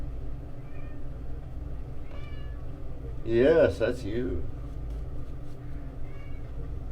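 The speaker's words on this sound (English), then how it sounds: "I have a safety cat in here." A cat meows once, clear and close, with a person talking quietly before and after.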